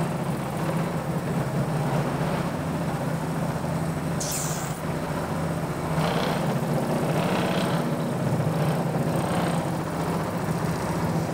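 A Vespa GTS scooter engine, freshly overhauled and just restarted with coolant on the exhaust, idles steadily in a continuous low even drone, moderately loud and close, with no one speaking.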